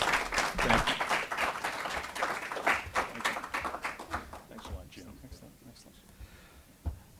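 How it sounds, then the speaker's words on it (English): Lecture audience applauding after a talk, dense clapping loud at first and then thinning and fading out over several seconds, with a few last scattered claps. "Let's give our speaker a round of applause"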